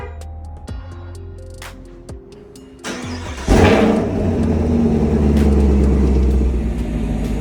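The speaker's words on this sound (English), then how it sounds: "Every single time I start this car up, it sounds like." A Chevrolet SS with a 6.2 V8 cold-starts: a few seconds of quiet mechanical ticking and clicks, then the starter catches and the engine bursts to life loudly and settles into a high, steady, rumbling idle.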